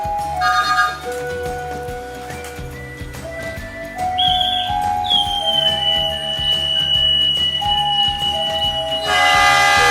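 Siliwangi passenger train pulling into a station, its wheels clattering in a steady rhythm under sustained whistle-like horn tones and screeching metallic squeals, loud and close throughout.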